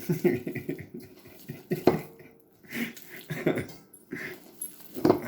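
A dog whimpers and whines in short, repeated bursts, begging in a kitchen while avocado is being mashed. The sounds are close and fairly loud, with quiet gaps between them and faint clinks of dishes.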